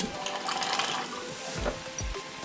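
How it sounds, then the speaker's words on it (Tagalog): Running water splashes and gurgles into a cooking pot while making chicken adobo, a steady pour with a few clunks of something being handled. "lagyan ko na siya ng tubig"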